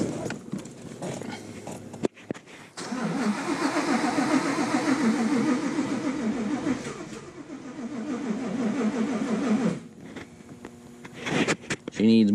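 A supercharged, cammed Ford Coyote V8 is cranked and revved, giving a pulsing, rough-running mechanical chatter that surges and fades in bursts, with short pauses and a nearby voice in between.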